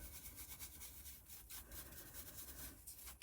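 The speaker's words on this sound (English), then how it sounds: "So let's just brush off any" A brush sweeping excess powder off a resin geode trinket tray mould, giving soft, quiet, repeated scratchy rubbing strokes up close, with no talk.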